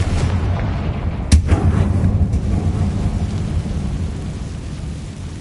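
A Confringo blasting spell in Hogwarts Legacy, one sharp explosive burst followed by a deep rumbling roar that slowly fades into a sustained low crackling wash.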